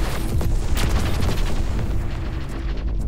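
A spaceship gun in the space combat game Everspace 2 fires a steady, dense stream of booming shots with no break for the full stretch, close and loud, with no talking.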